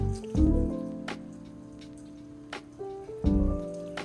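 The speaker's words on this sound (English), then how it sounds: "Now I'm just gonna rinse just under the frame there and down the side here." A water-fed pole sprays water to rinse under and down the side of an exterior window frame. It makes a steady hiss with a faint humming tone underneath, with short louder splashes near the start and again toward the end.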